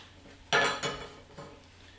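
A small cooking pot is picked up and set down in a kitchen, giving a bright metallic clank followed by two lighter clinks, close and otherwise quiet.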